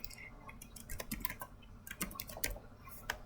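Keystrokes on a computer keyboard as text is entered into a search box on the Emerald Insight database, a quick irregular run of close, crisp clicks with no voices.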